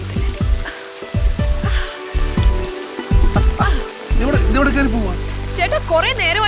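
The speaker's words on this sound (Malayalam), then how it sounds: "ഈ മഴ മാറുന്ന ഒരു ലക്ഷണവും ഇല്ല" Heavy rain falling, a steady hiss running throughout beneath a film comedy scene, with music and people talking over it.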